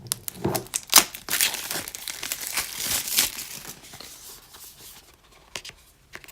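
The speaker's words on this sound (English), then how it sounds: "So if I can get this wrapper off." Plastic wrapper is torn off an Apple Pencil box in close, crisp crinkling and tearing bursts that build, then fade to a few soft rustles.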